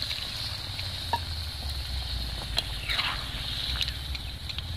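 A pot of chicken curry with kohlrabi simmers and sizzles after water is added, a soft steady bubbling hiss with occasional stirring clinks, fairly quiet and close.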